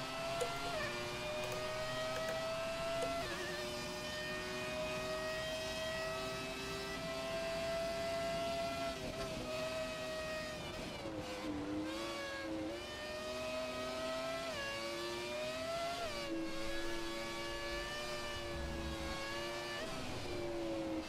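A high-pitched Mercedes V10 Formula One engine in the video game F1 2017 screams continuously, its tone climbing and dropping sharply with gear changes, steady and loud throughout.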